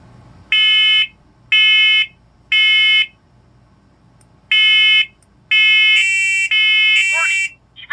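Smoke alarm system going off during a test: loud, piercing electronic beeps in evenly spaced bursts, then a shifting, warbling alarm tone toward the end, close-up and harsh.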